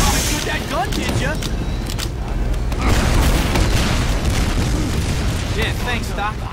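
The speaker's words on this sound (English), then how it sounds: "you shoot that gun, did ya?" Gunfire and explosive booms from a Team Fortress 2 match on the cp_badlands map, dense and continuous at close range with game effects layered over the din; people talk throughout.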